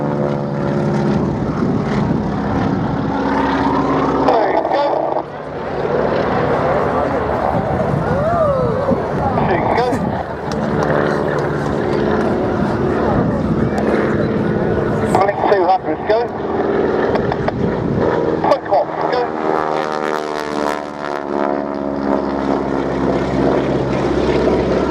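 Stearman biplane flying at the Biggin Hill Airshow, a loud, rough radial engine drone that swells and shifts in pitch as it passes, heard beneath ongoing commentary.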